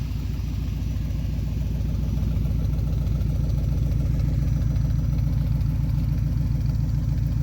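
A Cadillac Fleetwood engine with a faulty OptiSpark distributor idles close by, a steady low rumble with a rhythmic, uneven clatter that repeats throughout without pause.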